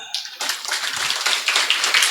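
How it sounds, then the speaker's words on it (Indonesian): An audience claps at a Halal bi Halal gathering of alumni and student guardians at an Islamic boarding school in Boyolali, a close, bright burst of many hands that starts abruptly and continues as a dense, uneven patter without speech. "Tepuk tangan."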